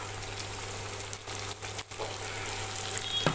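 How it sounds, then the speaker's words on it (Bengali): Small cut potato pieces and coconut bits fry in a pan, giving a steady, close hiss and sizzle that carries on throughout, with faint clicks of stirring and no talk. "এটাকে খুব ভালো করে আমি ভেজে নেব লাল লাল করে"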